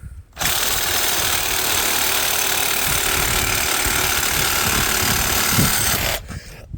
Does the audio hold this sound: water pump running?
no